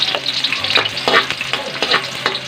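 Chopped garlic sizzles in hot oil in a pan with sautéed onion, being stirred while cooking pancit bato; a steady frying hiss sits under repeated scraping strokes of the spatula, close and fairly loud, with no talking.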